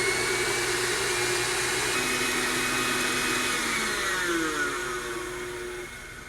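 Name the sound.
electric mixer on high whipping egg whites for icing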